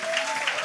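Studio audience of a live podcast clapping, a brief steady patter of applause with no voices on top.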